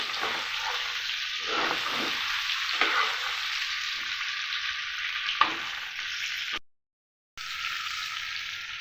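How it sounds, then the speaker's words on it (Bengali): Cauliflower florets fry in hot oil with a steady, bright sizzle, interrupted by a few stirring scrapes and a single sharp clink, then a brief drop to silence before the frying resumes. "নাড়াচাড়া করে দুটো সাইড ভেজে নেব"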